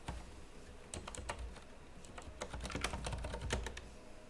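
Rapid, uneven keystrokes on a computer keyboard during a networking lab session, close and fairly quiet, clattering in short bursts and pauses for about four seconds with no talking.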